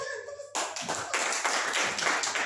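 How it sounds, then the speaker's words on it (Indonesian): Congregation applauding in a church service, a dense wash of many hands clapping that starts abruptly and holds steady and fairly loud throughout. "Jangan tepuk tangan terus."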